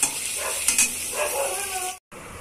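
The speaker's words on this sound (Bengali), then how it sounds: "এখন আলুগুলো ভেজে নিচ্ছি, নুন হলুদ দিয়ে মাখানো ছিল আলুগুলো।" Potatoes coated in salt and turmeric sizzle and crackle as they fry in hot oil, a steady close hiss with small popping bursts, broken by a brief cut near the end.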